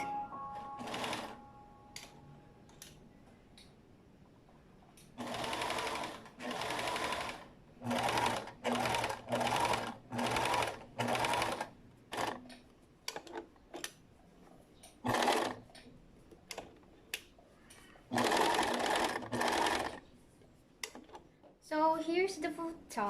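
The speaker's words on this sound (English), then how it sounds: "sew with a zigzag stitch" A sewing machine runs a zigzag stitch along a once-folded hem on the back piece of a thrifted tank top, in several loud bursts of rapid stitching with pauses between them and a voice at times.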